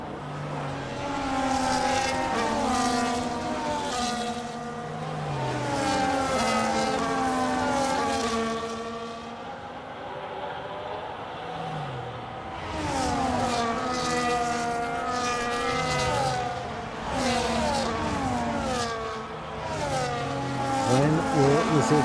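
Formula One cars in the F1 25 racing game on the Saudi Arabia circuit scream past with high revving engine whines that sweep up and down through gear changes, several cars overlapping in a loud, continuous stream.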